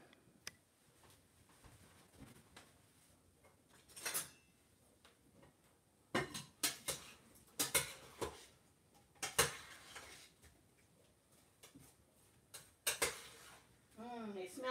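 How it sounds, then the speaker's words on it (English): A spoon stirring apple filling for an apple pie in a pot gives sparse, quiet clinks and knocks, with a busier run of sharper clatters in the second half. "I'm going to stir my uh, apples real quick"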